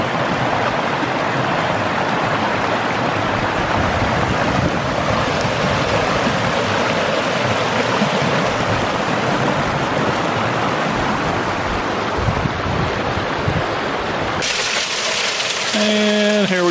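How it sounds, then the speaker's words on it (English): A waterfall in Shawnee National Forest, swollen with snowmelt, pours in a loud, continuous rushing roar that stays steady throughout, ending with a brief burst of sharper noise. "And here we got a waterfall."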